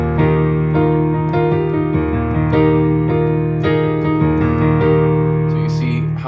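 A piano plays full chords, with the left-hand notes rolled from bottom to top and the right hand layered above, in a steady rhythm, close and loud.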